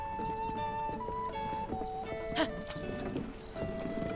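A horse in Zelda Tears of the Kingdom makes soft rhythmic hoof clops under steady game music, with a brief louder thump partway through.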